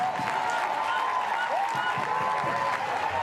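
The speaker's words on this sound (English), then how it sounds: "A deserved round of applause for Margot Chauvet" A stadium crowd applauds a slide tackle by Margot Chauvet at an A-League soccer match between Sydney FC and Central Coast Mariners. The clapping is a dense, steady wash that holds at an even level throughout.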